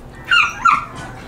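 A few short whining barks from house dogs, one of them a husky, two close yelps in quick succession at moderate loudness with no talk over them.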